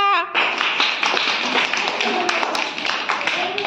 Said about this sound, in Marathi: बस टाळ्या वाजवा